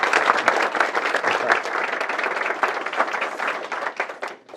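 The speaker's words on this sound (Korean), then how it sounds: "우리 박수 한번 드릴까요?" A lecture audience of army special-forces regiment soldiers applauds with dense, continuous clapping that holds steady and then tapers off at the end.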